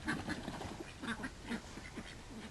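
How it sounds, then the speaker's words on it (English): Ducks quack repeatedly in short, irregular calls over a soft, continuous outdoor background, fairly faint and at moderate distance. "What you doing there, duckies?"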